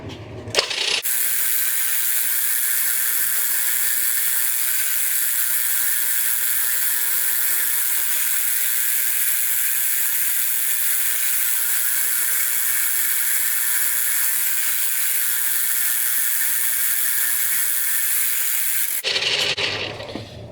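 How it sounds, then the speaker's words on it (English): Steady high whine of a machine drilling holes in Delrin ramp blocks, running loud and unbroken for almost twenty seconds with a brief start and stop at either end. "we'll just put the next one in and get it all drilled up"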